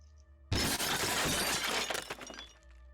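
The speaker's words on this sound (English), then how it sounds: "Renee sees another one shatter to the floor next to him." An old figurine smashes on a hard floor inside an old manse: a sudden loud crash at once, then a dense spray of breaking shards that rattles and tinkles away over a couple of seconds.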